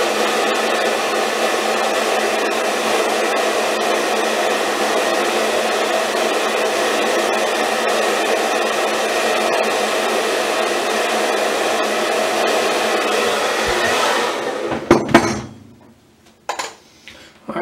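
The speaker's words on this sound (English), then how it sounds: "Hair dryer warning." A hair dryer runs with a loud, steady whirring blow for about fourteen seconds, then cuts off. A few clattering handling noises follow.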